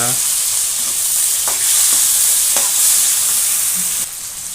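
Finely chopped tomato pieces fry loudly in a hot pan for paneer butter masala, a steady bright sizzle with a few soft stirring knocks, close and uninterrupted.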